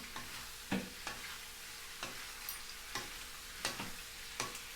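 Beef skin stirred with salt in a cooking pot: irregular scraping strokes of a utensil, several distinct scrapes over a low, steady sizzle, close and fairly quiet.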